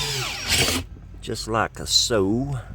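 A step drill bit enlarges a hole in short whirring bursts, and a voice talks between and over the drilling.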